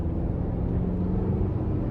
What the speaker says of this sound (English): let's go ahead and take this 2024 Toyota RAV4 XLE Premium out on the road for a test drive